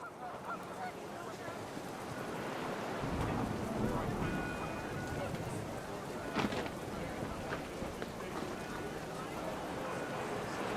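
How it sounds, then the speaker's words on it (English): Heavy rain pours steadily in the video game What Remains of Edith Finch, a dense wash of sound with a dull rumble of thunder and a sharper crack midway, alongside faint honking geese. "The rain came down in buckets then"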